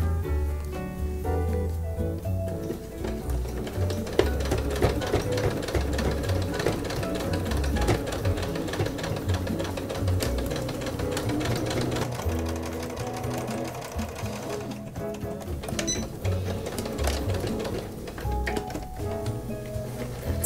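Sewing machine top stitching hemp canvas for a pencil case at a long stitch length, a steady close mechanical hum with rapid needle chatter running continuously, occasionally easing briefly.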